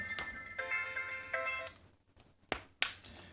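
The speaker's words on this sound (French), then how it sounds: "Ah, le téléphone qui sonne." A mobile phone ringtone plays during a test of a Leagoo Kiicaa Mix smartphone, a clear repeating electronic melody in short bursts for about a second and a half, followed by a few sharp handling clicks.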